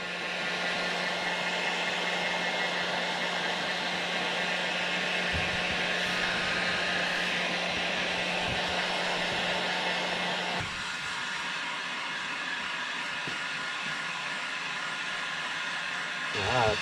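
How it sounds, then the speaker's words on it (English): A heat gun blows steadily, shrinking protective wrap onto the forks of a 2019 KTM 250XC hard enduro bike. The whir is loud and continuous, with a slight change in tone partway through. "I'm just gonna take my heat gun and kind of work my way around."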